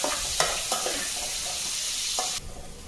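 Onions and tomatoes sizzling and frying in oil in a pan for chicken biryani, with a steady hiss broken by a few scraping stirs; the sizzle drops away near the end.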